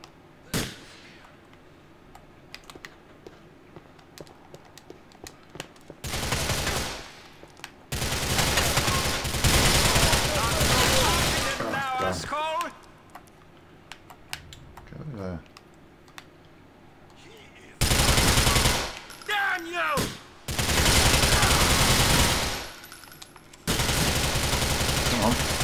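Gunfire in Grand Theft Auto IV, loud bursts of rapid automatic shots in several separate volleys, each lasting a few seconds, with quiet gaps between them.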